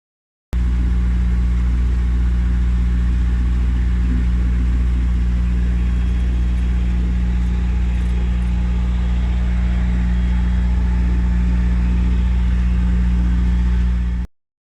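A canal boat engine drones steadily at a constant low pitch of about 2,000 to 2,500 revs throughout, loud and close, with no voices.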